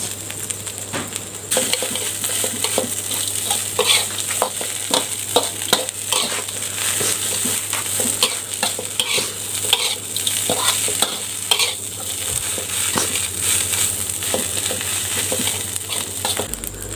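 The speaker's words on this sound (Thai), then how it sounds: "ก็คั่วจนหนูนาเราสุกแล้วนะครับ" Field rat meat stir-frying in a pan with curry paste, with bamboo shoots in the dish: a constant close, loud sizzle with rapid scraping and stirring strokes throughout and faint utensil clatter, no talk.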